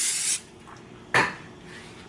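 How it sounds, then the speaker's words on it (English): Butter spray hisses from a can into a hot pan while hash browns are being cooked, two short bright bursts, the first about a third of a second and the second briefer, close by against quiet kitchen background. "Butter spray."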